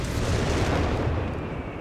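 Artillery fire in the video game Company of Heroes 3, a loud rumbling boom with a deep, sustained low-end roll that slowly fades over nearly two seconds.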